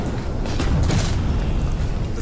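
Dense, rumbling gunfire in a Battle of Gettysburg Civil War documentary rolls on as a continuous loud roar of massed musketry with heavy low booms.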